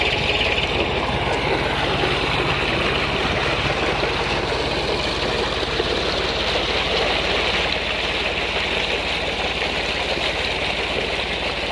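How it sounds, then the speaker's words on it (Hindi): A tractor engine drives a tubewell pump with a steady, loud, continuous drone and rush that runs unbroken without any pauses. "ये इस ट्रैक्टर के थ्रू ये ट्यूबवेल चल रहा है इधर से।"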